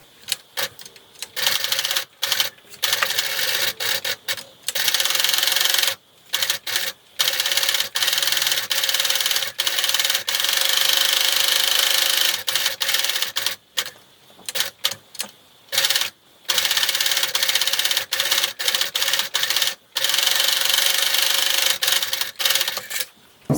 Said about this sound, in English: Now I'm going to sew all the way around the pouch with a 3/8 inch seam allowance